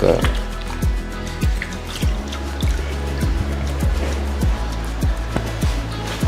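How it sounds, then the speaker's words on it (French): Hands are washed under running water before cooking, with a close, uneven trickle and regular splashing drips. A voice can be heard faintly underneath. "il faut laver les mains"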